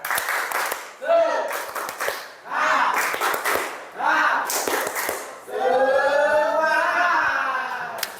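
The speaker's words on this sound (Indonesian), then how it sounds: "Tepuk semangat." In a classroom session, a group performs a rhythmic spirit clap, sharp clustered hand claps in bursts broken by short pauses, with voices chanting along between the claps.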